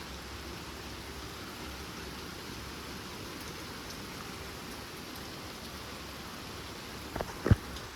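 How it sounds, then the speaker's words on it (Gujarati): Steady, dense rain hisses evenly throughout, a constant wash of falling water, with a couple of brief sharp knocks near the end. "ફૂલ વરસાદ છે અત્યારે."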